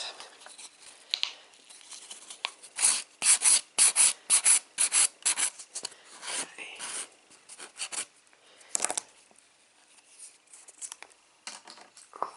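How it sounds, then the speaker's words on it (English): Acrylic nails on a practice hand being filed, a rapid series of short rasping strokes in uneven bursts, close and fairly quiet, with no talk. "I'm just going to give it a quick file and get rid of that dust."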